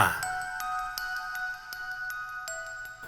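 A notification bell chimes several times in quick succession, bright sustained metallic tones with sharp attacks, close and clear with no voices.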